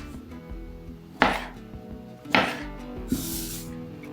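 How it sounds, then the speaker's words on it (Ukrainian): Sharp knife strokes slice cherry tomatoes on a board, with two crisp chops and a lighter third, over quiet kitchen background noise. "нарізаю чері."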